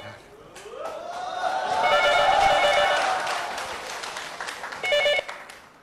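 A telephone rings indoors, a loud warbling electronic ring that swells, fades and then sounds again in a short burst, with no talking over it.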